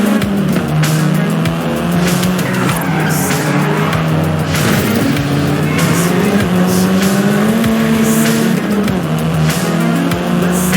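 Seventh-generation Volkswagen Golf R racing in Forza Horizon 5, its engine droning loud and close with rising and falling gear pulls and repeated tire squeals through corners.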